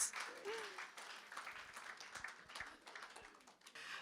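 Guests at a charity dinner applaud, a faint, scattered patter of clapping with soft crowd murmur, fairly distant in a large room.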